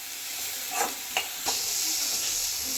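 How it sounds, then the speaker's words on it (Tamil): Capsicum fries with a steady, bright sizzle in a pan for egg fried rice, with a few soft scraping stirs of the spatula breaking through the continuous hiss. "இப்போ நம்ம கேப்சிகத்தையும் ஆட் பண்ணிடலாங்க. கேப்சிகமாக ஆட் பண்ணிட்டு நல்லா மிக்ஸ் பண்ணி விடுங்க."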